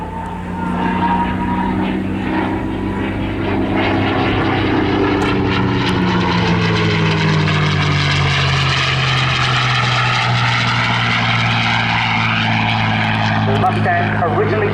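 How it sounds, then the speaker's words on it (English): A North American P-51D Mustang single-seat WWII fighter with an Allison V-1710 engine flies at an airshow, its loud propeller drone rising and falling in pitch as it passes. Continuous engine roar fills the whole stretch. "the North American Aviation P-51 Mustang then, an American long-range single-seat fighter and fighter bomber used during World War II and in Korea"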